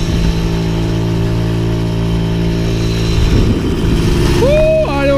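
A 1991 Motobécane AV88 custom moped engine running uphill, a steady loud buzzing drone close by, shifting in pitch near the end as a voice exclaims over it.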